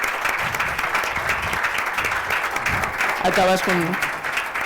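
Audience applause for the artists at the close of a live literary and music event, a steady broadband clatter of many hands filling the room, with a voice beginning to speak over it near the end.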